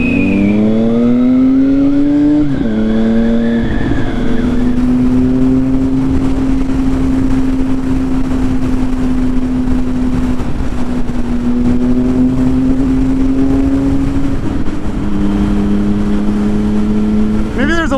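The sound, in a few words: motorcycle engine running, won't shut off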